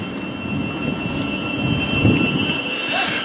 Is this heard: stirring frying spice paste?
no